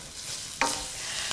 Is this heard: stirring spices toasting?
yes